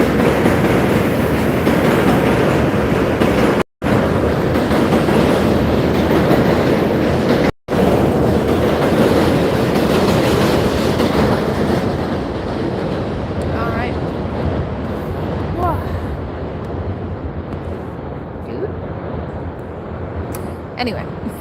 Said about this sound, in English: waiting for the train to go by. It's always so loud.